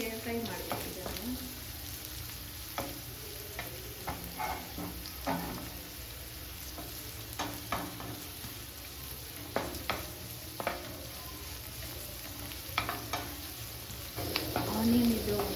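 Chopped onions frying in a pan for a Mangalore chicken curry, a soft steady sizzle with occasional stirring scrapes and clinks, heard close and fairly quiet throughout.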